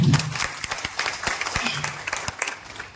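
Audience claps and applauds for the company at an electric vehicle sales presentation; a dense burst of clapping runs throughout the three seconds, with a brief voice at the start.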